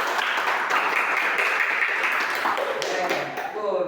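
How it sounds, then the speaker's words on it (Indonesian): A group of young scouts in a tracking-signs lesson clap their hands together in a dense, steady patter that fills the whole stretch and tails off slightly near the end. "Tepuk tangan untuk kita semua."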